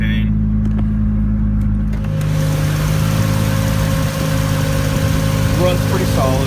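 A 1989 Toyota Supra with a swapped 2JZ engine runs at a steady rumbling idle close by, a deep even drone with a slight rise partway through, while someone talks over it.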